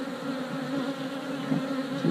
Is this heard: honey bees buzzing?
yes